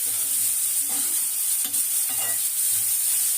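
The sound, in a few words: cabbage sautéing in a pan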